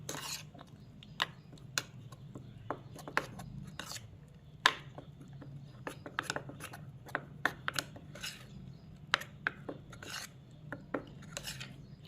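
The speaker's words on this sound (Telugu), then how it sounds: "దీన్ని బాగా మిక్స్ చేయండి." A spoon stirs a coconut oil hair mixture, making repeated sharp clicks and soft scrapes at irregular intervals, close and fairly quiet.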